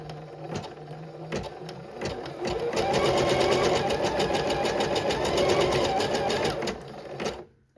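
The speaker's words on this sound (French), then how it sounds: "je vais pouvoir lancer ma broderie en appuyant sur ce bouton-là" Chicago 7 embroidery machine stitching a butterfly: a few starting clicks, then a fast, steady mechanical needle chatter runs for several seconds before stopping with a short clunk, close and clear.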